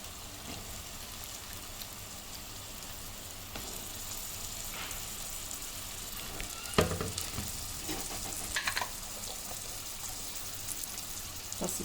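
Cut brinjal pieces, soaked in salt water, frying in a pan for an egg and brinjal curry, a steady close sizzle with a few louder crackles and stirring scrapes partway through.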